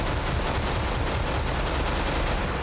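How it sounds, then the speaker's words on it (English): A portable cannon fires in the first-person shooter Serious Sam amid dense, continuous rapid gunfire and explosions, loud and unbroken across the whole stretch with no talking. "Ain't nothing says stopping power like a portable cannon."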